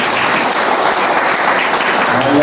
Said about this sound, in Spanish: ¿Por qué no le damos fuerte aplauso?